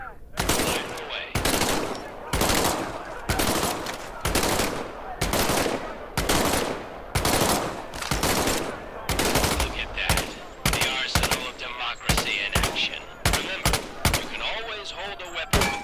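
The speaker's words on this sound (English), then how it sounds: "Reach over your shoulder and grab your M1A1 submachine gun." Medal of Honor video game M1A1 submachine gun fire, loud close bursts of rapid shots repeated in short rhythmic volleys with brief gaps, continuing steadily throughout.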